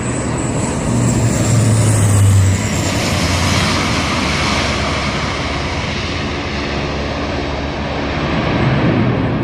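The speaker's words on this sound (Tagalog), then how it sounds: "Gamit ang Q400 Bombardier plane, isinagawa ng Philippine Airlines ang demo flight kahapon." A Bombardier Q400 turboprop airliner on a Philippine Airlines demonstration flight, its engines and propellers roaring loud and steady throughout, swelling briefly near the start, with no voices.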